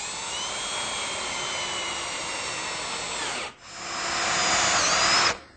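A power drill whines steadily as it drives self-drilling pan-head screws into wood, a loud continuous run that stops briefly near the middle, then spins back up and runs until cutting off just before the end.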